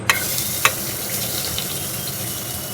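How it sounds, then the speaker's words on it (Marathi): Oil heating in a kadai before onion goes in, giving a continuous soft frying hiss with a couple of brief clicks near the start. "तेल गरम झाल्यावर आपल्याला कांदा घालायचा आहे"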